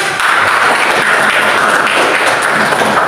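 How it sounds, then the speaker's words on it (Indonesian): A classroom full of people applauding, dense steady clapping at close range that continues without a break. "tepuk tangan untuk kita nak."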